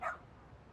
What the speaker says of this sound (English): Oh, what a cute doggy.